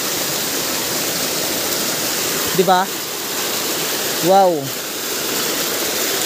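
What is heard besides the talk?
strong flowing water of a stream waterfall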